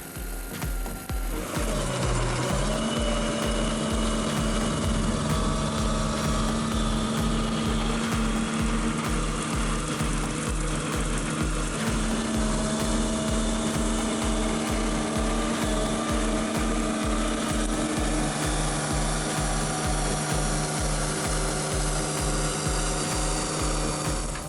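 A Demonio 23 000 forest mower grinds tree stumps with a loud, steady mechanical drone and rapid regular chopping pulses, running continuously and close by with no voices.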